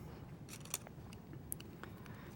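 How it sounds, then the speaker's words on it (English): A few quick, crisp snips of scissors cutting through stiff resined paper, quiet and close, over a faint steady background hum. "you just need to take some scissors"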